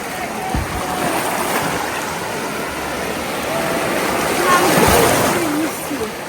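Sea waves wash against the beach at Salou on Spain's Costa Dorada. The surf rushes in as a steady broad wash that swells near the end, heard alone with no talk.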